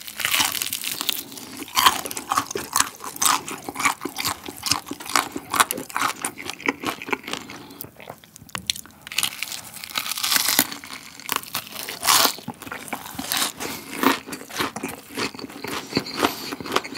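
Korean fried chicken drumsticks are bitten and chewed up close, with steady crisp crunching and crackling bites, repeated rapidly and loud for the whole stretch, with no talk.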